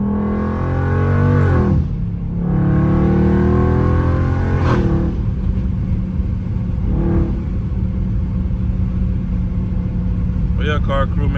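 A Dodge Scat Pack engine revs hard through harsh downshifts, loud rising and falling blips with a sharp bark near the start and middle, then a lower steady drone as the car cruises, heard from inside the cabin.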